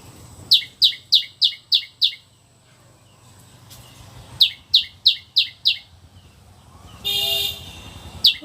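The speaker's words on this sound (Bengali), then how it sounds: "পাখিতে ডাকে কোথায়? টুনটুনি পাখি।" A common tailorbird calling outdoors near a village school field, two bursts of about six sharp, evenly spaced chirps, loud and clear, with a brief horn-like toot after them.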